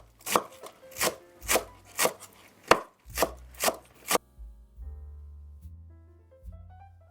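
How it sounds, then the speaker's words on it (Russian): A knife finely chops a large bunch of green onions on a board, eight or so crisp rhythmic thuds close by, then stops as a low tonal hum continues. "мелко режу большой пучок зеленого лука."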